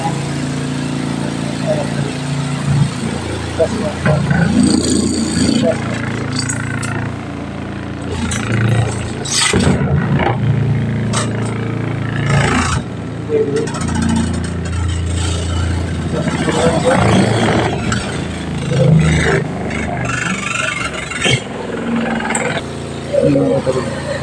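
A small mini washing machine spins hard with a steady rumbling, motor-like churn that swells and eases. People talk over it almost the whole time.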